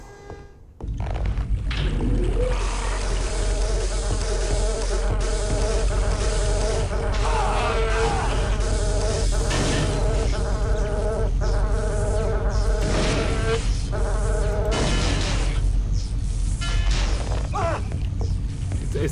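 Insect-like buzzing of a mosquito swarm in the video game Daikatana, a continuous loud drone that runs the whole time over rumbling game noise and low music, with faint talk now and then.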